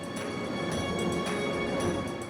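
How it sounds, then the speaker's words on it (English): A roller coaster train in a video game stops at a brake section, heard as a steady rumbling clatter of rolling wheels with rhythmic rail clicks, continuous and fairly loud. "The previous brake section should now stop the oncoming train in its tracks."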